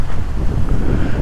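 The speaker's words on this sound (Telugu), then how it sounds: "గాలి వేస్తుంది గట్టిగా." Strong wind blasts into the microphone outdoors, a loud, rumbling buffet that surges unevenly for a moment.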